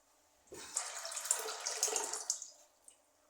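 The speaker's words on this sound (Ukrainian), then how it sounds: "Для того, щоб швидше закипіло, заливаю теплою водою." Warm water pours steadily into a cooking pot for about two seconds, splashing and gurgling up close, then stops with a few last drips.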